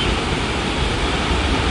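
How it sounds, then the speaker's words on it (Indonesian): Coban Sriti waterfall in Pronojiwo, Lumajang roars as a dense, continuous broadband rush of falling water, loud and close with no voices. "Nah, kali ini saya berada di air terjun Coban Sriti teman-teman ya."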